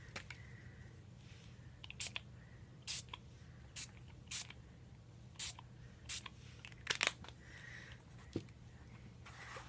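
Short bursts of spray hiss as color is sprayed onto journal paper, roughly a dozen separate puffs spaced irregularly over steady low background hum, close by.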